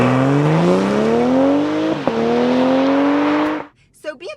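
A 2025 BMW M440i xDrive Coupe in sport mode launching hard off the line, the engine note climbing steeply through one gear, a brief break at the shift, then rising again before cutting off abruptly; loud and close, from inside the cabin.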